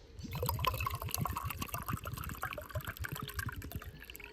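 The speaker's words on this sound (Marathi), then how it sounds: "हे नारळाचं पाणी बघू किती निघतं." Coconut water pouring out of a coconut into a vessel, a close, gurgling glug-glug stream with rapid bubbling pulses that gradually thins into a trickle.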